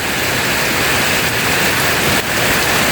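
Rain pours steadily on an afternoon at a rural bamboo-clearing site, a loud, close, continuous hiss of drops hitting surfaces with no voices.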